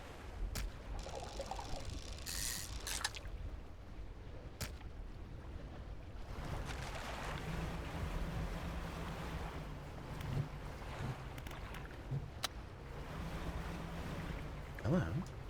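A fishing boat engine in DREDGE hums low and steady beneath washing water and wind, with scattered splashes and clicks over it.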